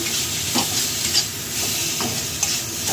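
A dish with a little sugar stirred in an uncovered pan over medium heat, steady sizzle with a few soft scrapes and knocks of the spoon at intervals, close and without voices.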